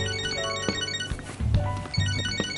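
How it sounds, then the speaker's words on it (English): Phone ringtone in the video game Catherine: Full Body, a melodic electronic ring repeating steadily and clearly. No one speaks over it. "My phone."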